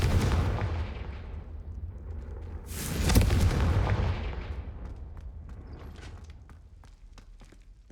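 The Confringo explosive spell in Hogwarts Legacy bursts with a booming blast over a low rumbling background, swelling and then fading away across several seconds, with faint crackles trailing after.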